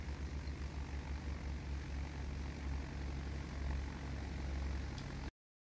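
A fixed-wing propeller aircraft on approach to a runway at Rome's LIRA airport gives a steady, loud engine drone that holds for about five seconds and then cuts off abruptly.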